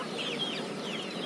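Chickens and roosters cluck at a poultry market, a faint high clucking chorus over steady background noise, with no one speaking.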